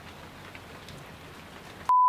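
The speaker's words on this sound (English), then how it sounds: "And there's the rain. That sound can only mean one thing." Rain sound effect from a Hasbro Twister Rave electronic toy: a soft, steady hiss of falling rain with faint patters, ending abruptly in a sharp electronic beep.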